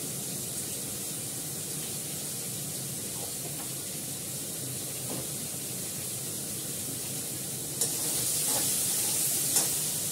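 Ginger and garlic paste frying in a hot pan gives a steady, even sizzle with a soft hiss throughout. It swells slightly louder near the end, with faint stirring clicks and no talking.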